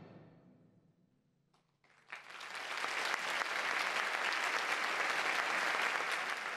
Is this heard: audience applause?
yes